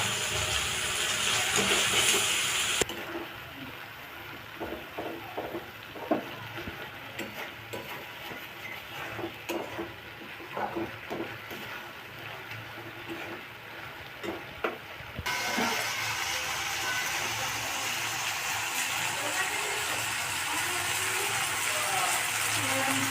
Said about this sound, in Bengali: আমি মশলা ধোয়া জলটা দিয়ে দিলাম